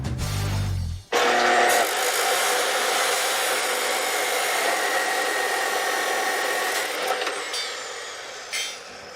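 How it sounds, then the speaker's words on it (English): A power cutting tool slicing through a coil of a car's front coil spring, a loud sustained high whine and grind that starts abruptly after a brief lower rumble and holds steady, tapering slightly near the end. "We're gonna make a cut right here, cut this one coil off."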